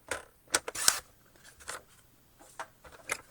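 Green cardstock sliced on a paper cutter, with a few short, sharp cutting and rubbing sounds close by, quiet overall, one louder stroke near the start and softer scrapes after, no talk.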